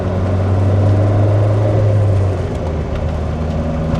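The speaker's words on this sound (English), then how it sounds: "you can hear that engine right behind you, that throaty V8" A 1998 Lotus Esprit V8 twin turbo drones steadily while driving, a loud, throaty low hum from the engine right behind the cabin, holding fairly even throughout.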